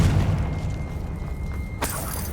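A Confringo spell in Hogwarts Legacy erupts in a sharp blast midway, a sudden bright burst cutting through a low rumbling background, with no speech.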